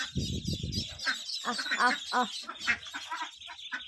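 Ducklings peep in quick, high-pitched bursts nearby, with some lower clucking from mother ducks and a voice talking over them.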